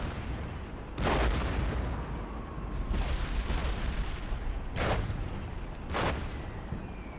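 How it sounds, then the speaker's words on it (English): Artillery fire pounds a German tank in the video game Warfare Legacy: several heavy booming blasts at irregular intervals over a constant rumbling battlefield din, no talk. "Got artillery on the German tank."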